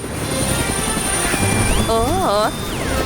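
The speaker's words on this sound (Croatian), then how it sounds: "Ko to leti helikopterom?" A toy helicopter in a children's dollhouse-building play scene gives a steady whirring buzz with warbling electronic tones partway through, running alongside a speaking voice.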